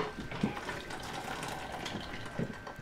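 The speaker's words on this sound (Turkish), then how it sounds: "suyunu başka bir kabın içerisine süzüyoruz" Pasta cooking water is poured off through a strainer into another container, a close continuous splashing gush of liquid with a few soft knocks against the vessel.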